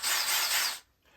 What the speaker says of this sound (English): Liv is now going to drill a hole